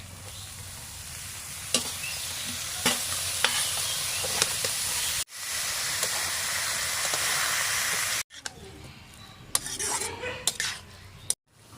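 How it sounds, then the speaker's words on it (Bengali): Chopped cabbage going into a pan of potatoes fried with turmeric and salt, giving a continuous sizzle broken by clinks and scrapes of a utensil on the pan, close up, with a couple of abrupt cuts and no voices. "হলুদ নুন আলুগুলো খুব ভালো করে ভেজে নিয়েছি কেটে রাখা বাঁধাকপি দিয়ে দেবো"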